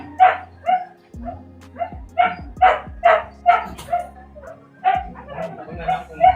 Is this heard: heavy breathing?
no